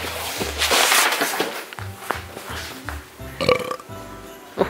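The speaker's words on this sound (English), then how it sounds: "It just burped." A small creature gives a short, low burp close by, amid handling noises and a few soft clicks and thumps.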